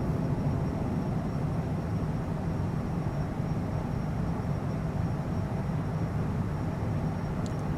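In Microsoft Flight Simulator 2020, an airliner climbs after takeoff from Dublin with a steady, broad engine roar, constant and even in level throughout with no talking.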